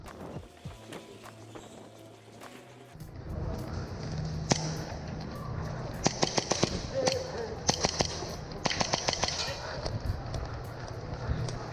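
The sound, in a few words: airsoft guns firing plastic pellets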